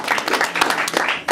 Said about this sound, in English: big round of applause for what Melvin does and what Melvin brings to the organization